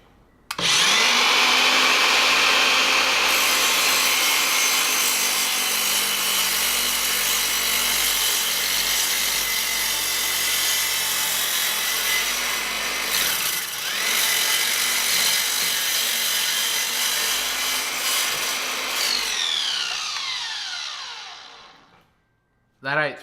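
A Toolpro 18V cordless compound sliding miter saw cuts through wood. The motor spins up to a loud, steady whine, the blade grinds through the board for about twenty seconds, then the motor winds down and the saw ends with a sharp knock.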